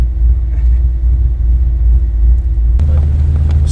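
A 1982 Ford Fairmont XE ESP 5.8L rumbles while cruising on a bumpy road, a loud, steady low engine drone heard from inside the car that picks up a rougher, noisier edge toward the end.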